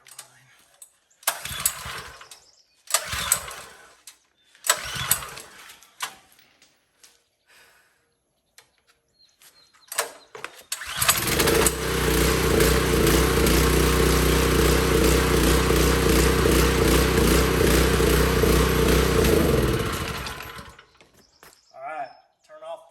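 A small engine with a freshly cleaned spark plug sputters after a few brief pull attempts, then catches and runs steadily and loudly for several seconds before winding down.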